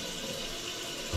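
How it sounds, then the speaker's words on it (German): Water runs steadily into a bathroom sink after a drain blockage was cleared, a constant close hiss of flowing water with no talk. "Das Waschbecken läuft momentan bei mir"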